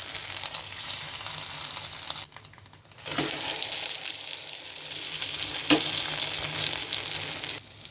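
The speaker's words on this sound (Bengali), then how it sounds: "এবার আমি অমলেটটাকে উল্টিয়ে দিব।" A Spanish omelette fries in a pan with a constant bright sizzle. A short hushed pause gives way to louder frying, with a couple of sharp knocks from the flip and the pan.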